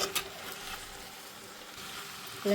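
Thoran, a stir-fry with curry leaves and coconut, sizzles steadily in a hot pan, with light scraping from stirring. A brief louder clatter comes at the start and again at the end.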